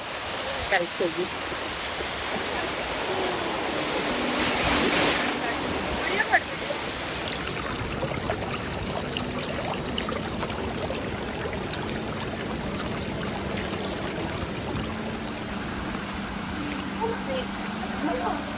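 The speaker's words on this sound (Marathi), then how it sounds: "फायनली आम्ही धबधब्याला पोहोचलेलो आहे." Steady roar of rushing water, broad and continuous throughout, from Shirvane Waterfall in Navi Mumbai close by with a strong flow, with faint voices briefly audible.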